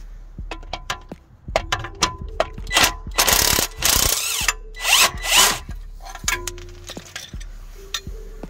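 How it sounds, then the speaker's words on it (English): A nut on a BMW E60 coilover being worked while a spanner holds the other side, heard as loud, close bursts of rapid ratcheting and tool whirring mixed with metallic clinks and knocks. "Just use a spanner to keep it in place."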